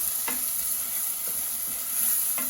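Pimento peppers sauté in a pan over low to medium heat, giving a continuous soft sizzle with a few spaced scrapes of a spoon across the pan.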